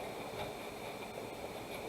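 A model train hums and rattles steadily along its layout track, a continuous close-up whirr with faint clicking and no voices.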